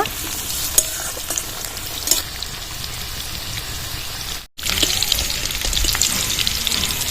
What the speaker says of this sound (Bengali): মিষ্টি কুমড়োগুলো কিন্তু লাল লাল করে আমি ভেজে নেব